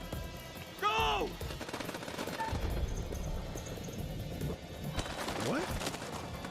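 Gunfire in the video game House of Ashes: a burst of shots near the start, then scattered rapid reports and crackle over a busy, noisy game mix with whooshing effects, fairly loud throughout.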